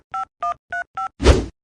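Four evenly spaced two-tone telephone keypad beeps, clear and close, followed by a short louder burst of noise as a number is dialed.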